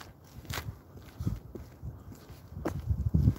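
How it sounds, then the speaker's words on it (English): Footsteps crunch outdoors at an uneven pace, mostly low thuds that grow heavier and closer toward the end, with a couple of sharper snaps in between. "I'm hearing footsteps."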